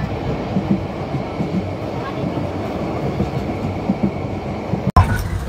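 A Cox's Bazar Express passenger train runs steadily on the line between Cox's Bazar and Dhaka, its carriages giving a continuous low rumble with faint rhythmic wheel clacks and a sharp jolt near the end, while muffled voices mingle in the background.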